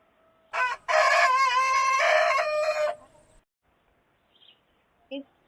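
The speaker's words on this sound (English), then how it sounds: "It's a chicken." A rooster crows once loudly and up close, a long cock-a-doodle-doo lasting about two seconds, followed by quiet and a faint short cluck near the end.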